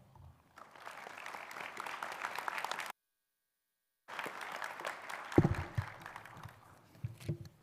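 Audience applause welcomes a speaker at a College of Graduate Studies graduation ceremony, a steady moderate clapping broken by a short silent gap, then resuming with a few louder thumps near the end.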